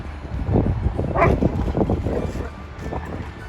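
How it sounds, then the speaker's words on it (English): Dogs bark beside a canal boat on the water, a few short close barks and yips in a loose burst, then quieter whimpering against faint outdoor wind. "Let's not hang around too much so she doesn't get scared by the dogs."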